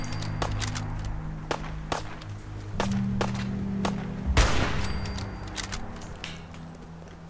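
Gunfire from a weapon in the video game Fallout 4: scattered sharp shots and thuds burst out across the stretch, with one heavy blast near the middle over a low steady game drone.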